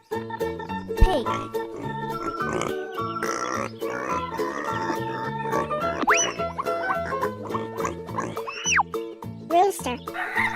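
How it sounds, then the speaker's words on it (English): Pig grunts and oinks sound out in short bursts over busy children's music, with a voice speaking alongside. "Pig."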